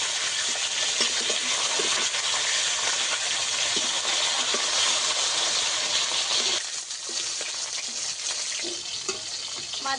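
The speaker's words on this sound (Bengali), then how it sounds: "মাছগুলো ভালো করে উল্টো পাল্টে একটু ভেজে নেব" Rupchand fish being fried in a pan, a loud continuous sizzling hiss with occasional spatters and stirring noises, steady throughout with a slight dip partway through.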